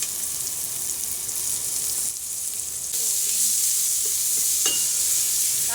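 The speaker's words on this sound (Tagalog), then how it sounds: "Gisahin natin yung bawang hanggang sa medyo mag-golden brown" Garlic, onion and tomato sauté in a pan for pumpkin soup with shrimp, giving a loud, dense sizzle and hiss throughout that swells slightly partway through, with occasional stirring clicks.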